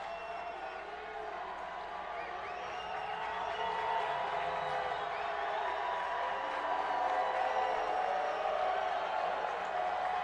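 Home and visiting North Medford crowds at a high school football game in Grants Pass cheer in a steady, broad roar that swells slightly after the opening seconds and holds at a distance.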